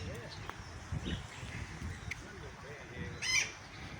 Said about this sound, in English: There's some parrots over there.